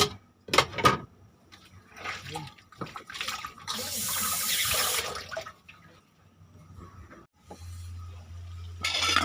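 Dishes being washed under a running kitchen tap, with water gushing and clattering into the sink in bursts, then a steady lower flow toward the end; a person talks at times over the running water.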